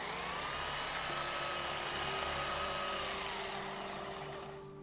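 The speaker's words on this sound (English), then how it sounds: "If I put it in the polisher, it'll buff up in no time." Steady electric whir of a rock polisher buffing a picture agate in the Nancy Drew game The Secret of Shadow Ranch, a continuous high drone with a faint tonal whine that holds for about five seconds before fading.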